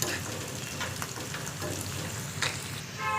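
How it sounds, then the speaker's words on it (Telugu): Coriander seeds sizzle in hot oil over reddened onions for munagaku rasam, a steady close crackling fry with small pops throughout and no break. "ఒక గుప్పెడంతా ధనియాలు వేసేద్దాము. దీంట్లో బాగా వేద్దాం ఆయిల్లోనే."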